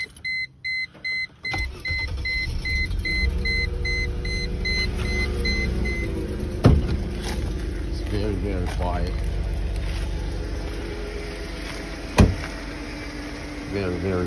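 A 1999 Mercedes E320 4MATIC idles smoothly and quietly in a steady low rumble, with a few short clicks and beeps at the start and two brief thumps along the way.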